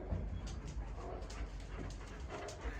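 Dogs indoors whimper and give short yips and barks in a quick, irregular series, faint and somewhat distant.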